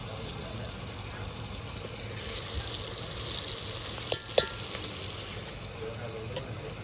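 Dried bombil fish curry with turmeric and chili sizzles faintly and steadily in a pan, with a couple of sharp utensil clicks partway through.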